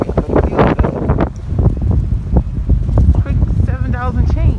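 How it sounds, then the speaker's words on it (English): Wind blows outdoors on a street corner, gusting and buffeting the microphone in low, rumbling surges while a person talks over it. "It's windy out here, but it feels good."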